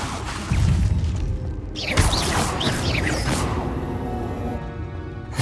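A Bombarda spell explosion in Hogwarts Legacy lands as a broad crash and whoosh, followed by rumbling debris and game effects that fade away over several seconds.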